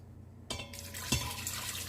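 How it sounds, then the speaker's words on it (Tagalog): Water is poured into an Instant Pot holding beef cubes for beef nilaga, a sudden splashing rush that continues as a steady liquid fill, close by, with a faint clink partway through. "Tsaka natin tubigan."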